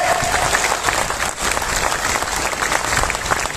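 A crowd at a political rally claps loudly and steadily, dense applause that fills the space and stays near and strong throughout, with a brief dip partway through.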